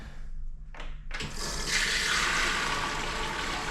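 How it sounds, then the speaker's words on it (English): A button-activated toilet flush, the kind fitted with a new electronic seat: a couple of faint clicks, then a sudden loud rush of water that keeps pouring and swirling steadily until the end, close by with no talk. "Flush button works."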